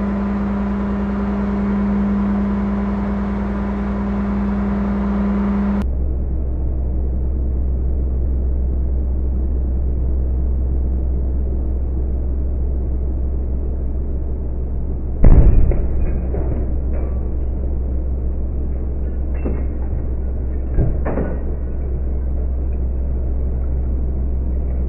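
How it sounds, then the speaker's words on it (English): A 2400 PSI hydraulic car crusher hums with a low steady machine rumble. Partway through, the old bottle under its press bursts in a sudden sharp crack, and a smaller thump follows a few seconds later. "I wasn't expecting it to explode quite that violent."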